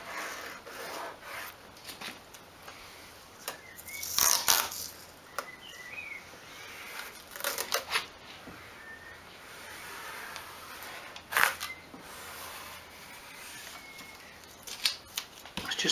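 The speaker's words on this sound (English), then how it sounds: "I'll just tape off this" Masking tape is pulled and pressed along the leather strip of a Nissan N13 Pulsar, faint scattered tearing and rubbing sounds in short bursts against a quiet background.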